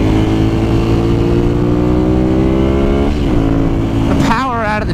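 A 2011 Ducati Monster 796 ABS engine revs hard and accelerates out of turns, its steady loud drone climbing in pitch, with a voice talking over it.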